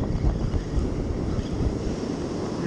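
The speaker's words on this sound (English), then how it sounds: "I'm gonna do my best to keep my back to the wind so that you can at least hear me" Strong wind buffets the microphone on a beach while surf-fishing, a continuous roaring rumble with gusty low-end thumps and no talk, close and loud throughout.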